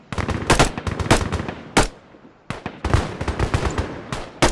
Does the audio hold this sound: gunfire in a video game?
yes